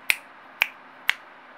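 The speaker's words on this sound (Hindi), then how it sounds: "3 बार चुटकी बजाएंगे" Three crisp finger snaps at an even pace, about half a second apart, close and isolated against a quiet background, performed as part of a ritual practice.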